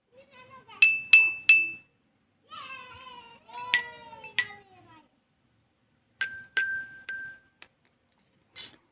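Three drinking glasses holding different amounts of water (one full, one half, one a quarter) are struck in turn, giving clear ringing clinks in three short groups of two or three taps, separated by quieter stretches.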